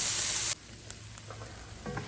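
Tomatoes sizzle loudly in a hot pan for an orzo dish, with a bright, hissing burst at first that quickly drops to a softer, steady simmering crackle with faint stirring.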